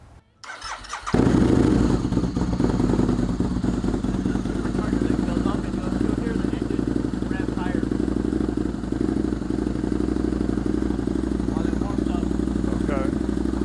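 Motorcycle engine started after a brief pause, then idling loud and close with a steady throbbing rumble and mechanical clatter, while people talk over it.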